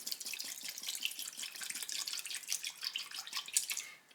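Evapo-Rust liquid is poured over RCBS 9mm reloading dies until they are covered, with a quiet, close trickling and splashing that runs steadily with small drips and bubbles.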